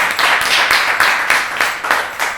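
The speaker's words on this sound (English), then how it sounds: "Round of applause." A small audience claps in a rhythmic, evenly paced beat to vote at a NerdFight event, the repeated bursts close and fairly loud with no talking over them.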